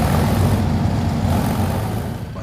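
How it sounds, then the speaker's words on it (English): A Triumph Rocket 3 motorcycle's big three-cylinder engine runs with a deep, loud, steady rumble close by, easing slightly toward the end, with no talk over it. "That engine makes such a nice noise when you're riding it."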